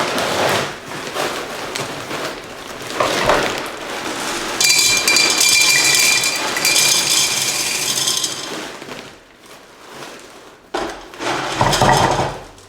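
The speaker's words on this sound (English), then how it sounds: "I'm going to chuck some of those leca balls in the base, mix up that soil mix" Leca clay balls tipped into a plant pot, then a soil mix stirred: close, busy rattling and clinking of hard pellets in bursts, louder in the middle, with quieter scraping pauses.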